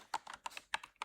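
Typing on a computer keyboard: a quick run of about six crisp, close key taps with a brief irregular rhythm.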